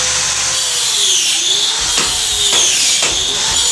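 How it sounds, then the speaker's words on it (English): A loud, continuous power tool whines while workers cut out sections of a damp, cracked concrete wall, its pitch dipping and rising as the blade bites in, with a few sharper grinding bursts and no talk. "right now we have workers cutting out those portions."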